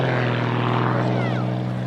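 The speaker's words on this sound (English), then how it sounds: "That little cut of the throttle." An XA41 aerobatic propeller aircraft at an air show drones loudly and steadily overhead, with a sweeping shift in pitch as the throttle is cut.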